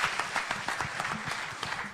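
An audience applauds steadily at an address to small business owners at KICC, a dense, continuous wash of many hands clapping at moderate volume.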